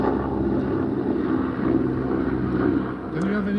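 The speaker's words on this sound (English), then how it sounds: "The helicopters always come out when they're right in the middle of an important conversation." Helicopter rotors droning overhead outdoors, a steady low rumble that continues beneath someone talking throughout.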